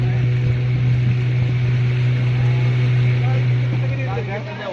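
A fishermen's speedboat motor drones steadily and close on Kerala floodwater during a rescue run, a constant low engine hum with water rushing beneath, fading slightly at the end.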